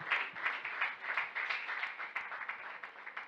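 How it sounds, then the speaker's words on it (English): A group claps together in a steady, quick rhythm at a graduation testimony service, somewhat faint and distant, with no voices on top. "Let's clap for her."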